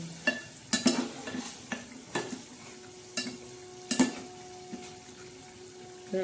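Masala for a surmai fish curry stirred and cooked in a pan after hot water is added: a soft sizzle with repeated clear spoon scrapes and taps against the pan, close and fairly loud.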